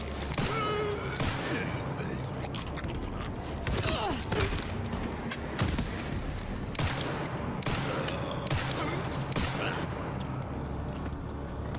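Gunfire in the video game Resident Evil Requiem: repeated loud shots in uneven bursts over a dense, rumbling game soundscape, with a player talking over it.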